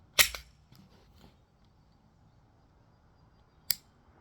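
Trigger of a Glock 43x pistol clicking sharply near the mic, then a second, softer click as it resets a few seconds later, with faint handling noise between the clicks.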